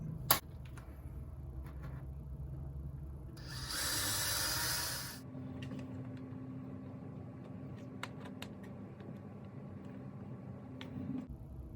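A power drill drills out a hole in a ski boot for a new buckle's hardware in a single short burst of a second or two, surrounded by quiet handling clicks and taps in an otherwise still room.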